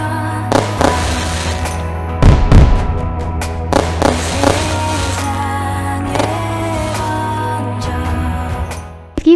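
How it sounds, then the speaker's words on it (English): Fireworks booming and crackling outdoors at a show in Japan, several sharp bursts and thuds over a constant low hum, with one especially heavy blast early on. "catch a fireworks show"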